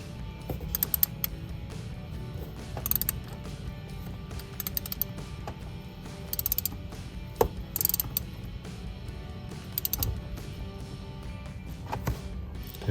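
A ratchet tightens a spark plug on a Ford F150, giving quiet, close bursts of rapid clicking spread through the clip with small metallic knocks between them.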